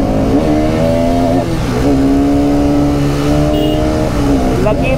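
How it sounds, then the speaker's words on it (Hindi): A Bajaj RS200 and a Yamaha R15 V3 ride side by side, their engines droning loud and close at sustained high revs, the pitch rising and dipping slightly as the throttle shifts, with wind rush throughout. "मैं इसको अपनी बाइक से पंप दे रहा हूँ कि चल जाने दे।"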